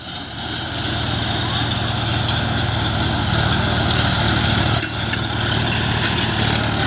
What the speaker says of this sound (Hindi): शुरुआत में ही बढ़त लेते हुए महिंद्रा 575 युवटेक मजबूती से पकड़ बनाए हुए खेत के ऊपर